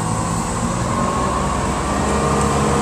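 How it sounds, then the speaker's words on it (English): A 2005 Bayliner 2655 running at speed on a sea trial, its engine giving a steady, loud, continuous roar mixed with wind and water rush. "Listen to that engine."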